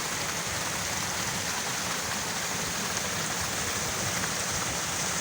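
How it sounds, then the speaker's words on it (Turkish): Abundant natural spring water pours out of the ground at Yakapark in Yakaköy, making a steady, dense rushing and splashing that stays close and even throughout, with no voices. "Görebildiğiniz her yerden bu şekilde bol miktarda su çıkıyor."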